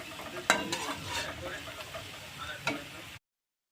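Food fries in a pan until golden brown, making a dense close sizzle with a couple of sharp utensil clanks, then cutting to silence before the end.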